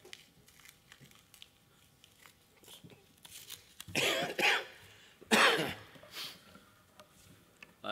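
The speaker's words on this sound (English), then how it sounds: "but now I'm coughing" A person coughs in two loud, harsh bursts close by, with quieter throat sounds and small rustles around them in an otherwise quiet room.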